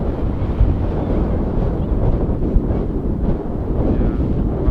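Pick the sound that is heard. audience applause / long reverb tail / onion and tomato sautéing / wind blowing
wind blowing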